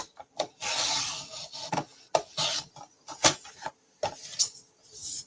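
Paper being trimmed for a scrapbook layout, a series of short scraping and rubbing cuts in irregular bursts, close and fairly quiet with pauses between strokes.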